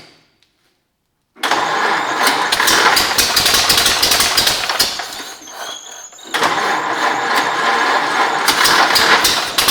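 A pre-war jalopy gow job car engine cranks after a brief silence, catches and runs loud and close, then idles with a short dip before revving back up.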